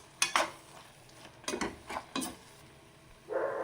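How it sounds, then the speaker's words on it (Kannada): Gongura chutney fries in oil as a spoon stirs it, giving several scraping, sizzling strokes in uneven bursts, close and fairly quiet, with a louder sizzle swelling at the end. "ಹಾಕ್ಕೊಂಡು ಇನ್ನೊಂದು 2 ನಿಮಿಷ ಫ್ರೈ ಮಾಡ್ಕೊಬೇಕು"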